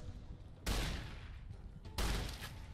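Gunfire in the video game Fallout New Vegas comes as two loud, close bursts about a second apart, each with a rough, fading tail, over a quiet low background with no speech.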